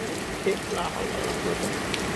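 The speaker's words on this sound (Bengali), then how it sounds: "তো দেখেন বৃষ্টি দেখেন" Steady rain patters outdoors as a soft, continuous hiss, moderately faint, with no clear voices over it.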